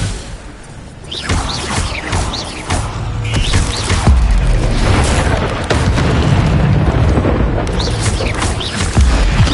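Spell effects from combat in the video game Hogwarts Legacy: a disarming spell cast amid repeated booming blasts, whooshes and crashing impacts, loud and continuous over a rumbling backdrop.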